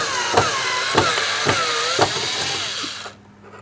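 A power screwdriver or drill whines steadily while removing Phillips head screws from a 2003-2007 Cadillac CTS front door panel. Its pitch dips and rises with a few periodic clicks before it stops abruptly.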